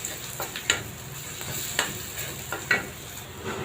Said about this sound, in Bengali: এখন পেঁয়াজটা একটু ভেজে ভেজে নিব